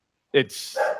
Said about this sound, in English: Like the dog hates it. You can hear her right now.